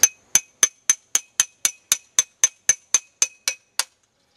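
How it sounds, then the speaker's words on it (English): A hammer taps a socket down onto a part of a Kenmore or Whirlpool washing machine, giving thirteen sharp metallic clinks at a steady, even pace, each ringing briefly. The strikes are close and clear, with no voices. "Take your socket and your hammer,"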